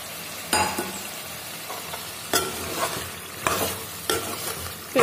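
Chicken sizzling and frying in a pan just after a spoonful of curd goes in, with a spoon stirring it through in several loud scraping bursts over a steady crackle.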